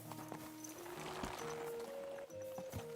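Hoofbeats of a horse clip-clop through a medieval-style video game, steady and fairly close, layered over music and game ambience with a few sharper clatters.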